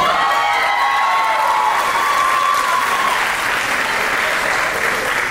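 An audience at a college Diwali dinner bursts into sustained applause with some cheering and whoops, a loud continuous roar of clapping that carries on evenly from start to finish.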